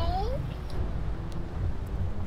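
A cat in the naval sailing video game Naval Action gives a single short, falling meow right at the start, over a dense, low background of game ambience.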